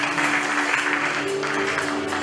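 A church congregation at an Easter seminar closing claps steadily to acclaim the king, a dense, even wash of applause throughout.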